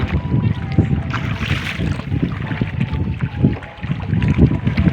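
Steady rushing water and wind noise around a boat moving on the water on a trip to the Sunken Cemetery, with faint voices in the background.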